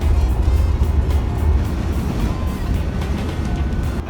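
A 58-year-old wagon driving along a road, its low engine rumble and road noise steady and close from inside the cabin, with no talking.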